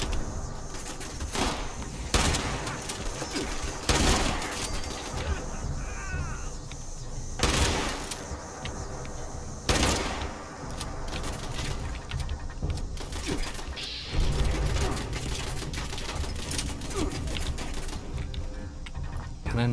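Turret gunfire in the video game Fallout 76, rapid clattering bursts of shots with sharp loud volleys at intervals over dense game noise and ambience, no voices.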